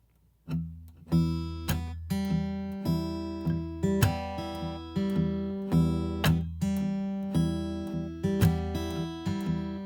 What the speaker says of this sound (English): hitting the strings with the pick, but I'm muting with my hand, so it doesn't actually make any notes happen. It's just this kind of percussive attack